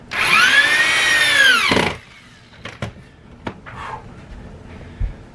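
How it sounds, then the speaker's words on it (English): A power drill whines loudly, boring through marble coping for about two seconds, then stops, followed by a few scattered knocks and clatters. "I'm also gonna drill through the marble on the top and put these in as well."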